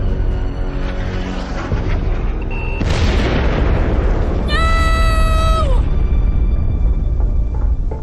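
Gunfire and explosive booms from ship squads in an animated sci-fi series, a loud burst of blasts and crackling impacts layered with a rising tonal whine, dense and continuous throughout.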